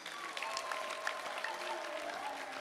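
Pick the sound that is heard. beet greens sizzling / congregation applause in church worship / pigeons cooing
congregation applause in church worship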